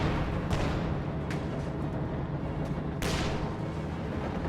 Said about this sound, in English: SU-76s land some hits at range on that Panzer II